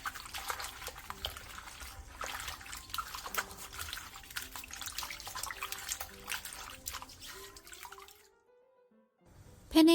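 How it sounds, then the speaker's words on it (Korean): Bellflower root (doraji) being rubbed and rinsed by hand in a basin of water for a Korean summer side dish, a steady close wash of splashing and dripping that stops abruptly near the end, followed by a brief clatter. "도라지는 물에 2번 정도 문질러가면서 씻어내준 뒤 물기를 충분히 빼놔주세요."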